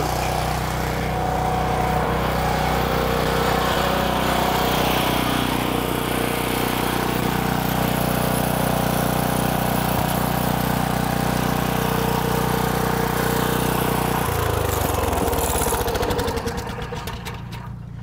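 A valve exercising machine runs steadily, turning water valves, a loud continuous mechanical engine drone with a rattling texture that drops in pitch and fades near the end.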